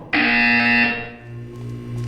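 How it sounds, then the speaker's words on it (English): A loud electronic buzzer from Portal 2 sounds in one harsh, sustained blast of nearly a second, then gives way to a lower droning hum, with no voices. "When you hear the buzzer, look down at the floor."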